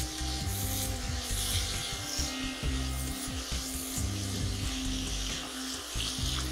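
Spinach fries in spices in a hot pan over high heat for dal palak, giving a steady, moderately faint sizzle and scraping that runs throughout, with no one talking.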